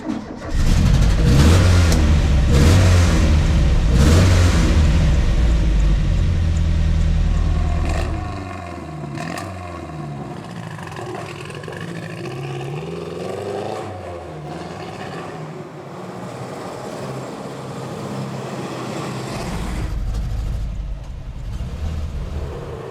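A LADA Niva rally-raid car's engine fires up loud and close and revs hard for several seconds. It then drops to a quieter, wavering idle with shifting pitch and rises slightly again near the end.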